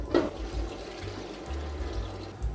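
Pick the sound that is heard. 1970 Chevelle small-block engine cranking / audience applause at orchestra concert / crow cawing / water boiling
water boiling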